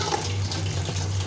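Water being poured into a pan of sweet and sour chicken as it cooks, a steady close splashing rush with a low hum underneath and no talk.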